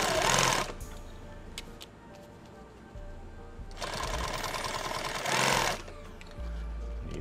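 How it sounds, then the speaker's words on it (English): Sewing machine stitching PALS webbing onto a pouch for a 40 mm two-quart lid build: two loud bursts of rapid motor-driven stitching, separated by quieter handling and clicks. "I'm going to sew these right into place for my PALS webbing"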